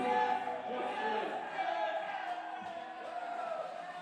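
A live audience at a music show cheers and whoops in a continuous, fairly distant roar, with voices mixed into the crowd noise.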